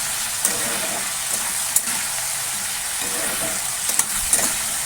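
Drumstick (sajne danta) curry with salt and turmeric sizzling and being stirred in a pan, a loud continuous frying hiss close by with a few sharp utensil clicks, no talking.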